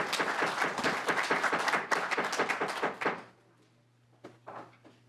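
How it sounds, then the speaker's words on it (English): Clapping from a crowd in a state legislative committee hearing room, a loud burst of many hands that lasts about three seconds, cuts off abruptly, and is followed by a near-silent room with a few scattered knocks and thumps. "Please keep the applause down"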